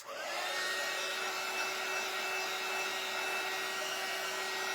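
A hair dryer runs in one unbroken, fairly loud whir with a steady tone, drying a wet handmade daisy shelf sitter craft piece, with no talking over it.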